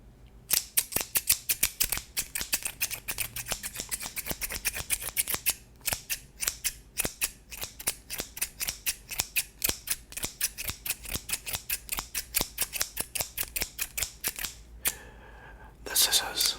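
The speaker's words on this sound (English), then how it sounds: "the scissors" Scissors snip close to the microphone in a long run of quick, crisp cuts as an ASMR trigger, with brief pauses and a short rustle near the end.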